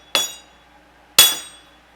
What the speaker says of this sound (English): I just use my hammer wrench with the brass and just drive it down.